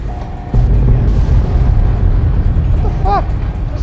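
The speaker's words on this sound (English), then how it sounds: "Where's everything exploding?" Explosions go off in the video game Fallout: New Vegas, a heavy low rumbling boom starting abruptly and rolling on for several seconds, with some faint game sounds over the top.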